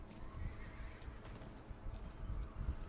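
A horse mount in the Diablo 4 video game neighs and whinnies over clip-clopping hooves, a short close burst of game audio with no speech heard.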